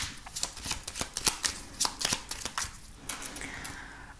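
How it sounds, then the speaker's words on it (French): Lenormand fortune-telling cards are shuffled by hand for a nine-card spread, giving a steady run of soft riffling and flicking strokes, close and fairly quiet, with no talk over them. "on va faire un tirage en 9 cartes avec le Lenormand pour voir un petit peu les messages"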